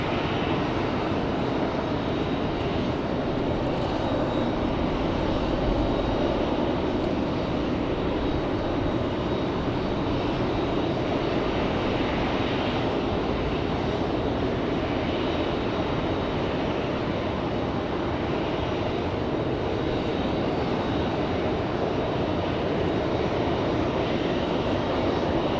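An ATR turboprop airliner approaches Raleigh-Durham International Airport, its engines a continuous broad drone that holds loud and steady throughout, with no voices.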